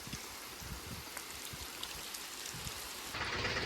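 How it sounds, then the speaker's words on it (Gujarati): Steady rain patters and hisses on surfaces, with scattered drip sounds, getting a little heavier near the end. "પણ વરસાદ ચાલુ થઈ ગયો"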